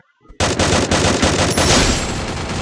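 Gunfire in the Counter-Strike video game erupts after a short, quiet start into a loud, rapid automatic burst that rattles on continuously to the end.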